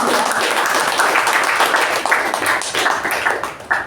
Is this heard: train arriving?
no